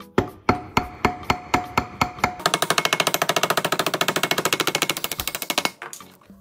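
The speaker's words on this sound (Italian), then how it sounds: "Lo inseriamo qui e martelliamo." Metal hammer blows strike a homemade pin punch, ground from a flat screwdriver, to drive a pin out of a 50cc Booster Next Generation scooter: about eight slow, evenly spaced loud strikes, then a rapid steady run of quicker blows before stopping.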